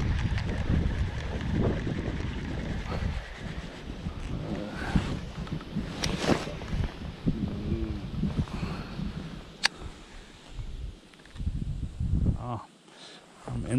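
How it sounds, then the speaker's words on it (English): Strong wind buffets the microphone outdoors during bass fishing, a loud, rumbling roar that rises and falls in gusts, with a person talking over it. "Oh, the wind is just too much."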